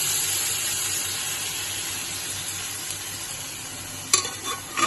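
Cooked beef tossed into a hot pan keeps up a steady sizzle with a watery, steamy hiss throughout, then a sharp clatter of stirring near the end, close and alone.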